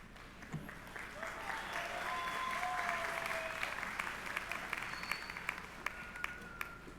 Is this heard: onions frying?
no